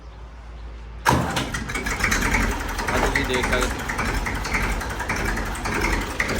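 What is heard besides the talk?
Massey 35 tractor engine starting and idling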